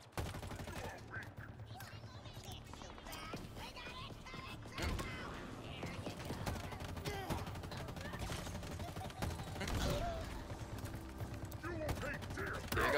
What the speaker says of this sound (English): Oh yeah, that's a turret.